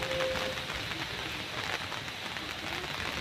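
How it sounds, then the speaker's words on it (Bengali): Rain falls on a rooftop as a steady, even hiss of broadband patter, close and moderately loud, with no voices. "বৃষ্টি এখনো পড়ছে"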